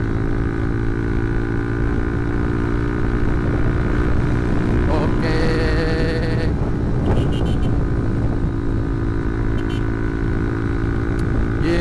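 Motorcycle engine drones loud and steady under wind roar while riding on the road, with a brief surge of revving midway; a rider's voice mutters faintly at times.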